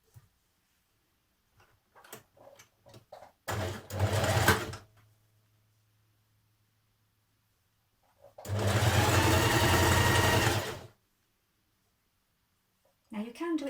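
A sewing machine runs a twin needle down a 2.5 cm sleeve seam on a Burda 6053 cardigan in two separate bursts, the second longer and steady, with quiet handling sounds between and brief talk at the start and end.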